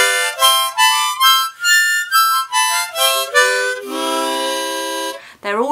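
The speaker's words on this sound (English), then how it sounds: "This is the harmonica." A harmonica, also called a mouth organ, plays a run of short separate notes and chords in C, then holds a long sustained chord before a final quick breathy note. It is close, clear and unaccompanied.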